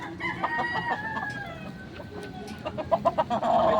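A gamecock crows in a drawn-out call, followed by rapid clucking from chickens nearby.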